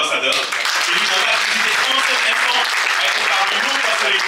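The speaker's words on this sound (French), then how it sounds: "Est-ce que vous pouvez applaudir pour l'ambassadeur?" Full, sustained applause from an audience at a business meeting rolls on steadily, with voices mixed in under the clapping.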